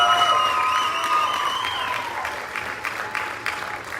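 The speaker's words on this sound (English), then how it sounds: "Let's give Michael Sanchez a big round of applause." A crowd at a high school summer concert applauds, a dense wash of clapping mixed with whistles and a few cheers near the start, gradually thinning and fading as individual claps stand out toward the end.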